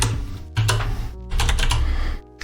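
Computer keyboard typing while editing in Vim, a handful of close, crisp key presses in short bursts separated by brief pauses.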